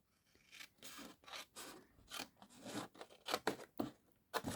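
Scissors cutting paper along a score line to trim a pocket flap for a travelers notebook journal, a run of close, crisp rasping snips coming in uneven bursts with no one talking.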